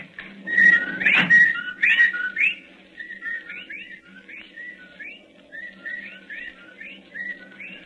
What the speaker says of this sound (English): there are the whippoorwills